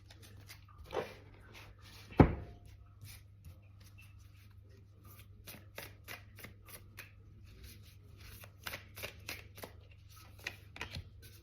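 Tarot cards being shuffled and drawn by hand: soft, scattered flicks and riffling rustles with a sharper slap near the start, quiet and close, with no talking.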